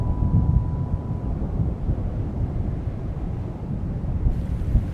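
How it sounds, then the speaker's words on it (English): Steady wind rushes and buffets against the microphone outdoors on the Scottish coast, a dense, continuous low roar with little variation, no voices. "The wind that sends them safely on their way is bringing change."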